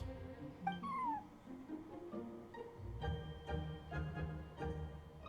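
A cat meows in the Genshin Impact video game, with a few short, clear meows and a rising caterwaul-like cry over soft game background sound.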